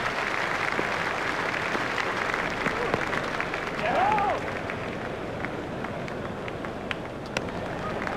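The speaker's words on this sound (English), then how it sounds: "The crowd are giving him an excellent round of applause." Steady cricket crowd applause at a South Africa vs West Indies match fills the whole stretch, a dense wash of clapping that swells briefly midway before settling back to an even level.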